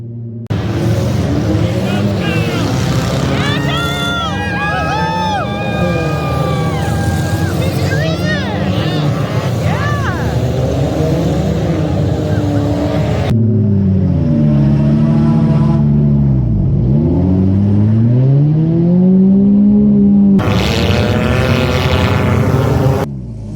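Race car engines, including a 2004 Saturn Ion and a 2004 Scion, roar loudly and continuously during a 50-lap enduro on a dirt track, their pitch whining up and down as cars accelerate and pass.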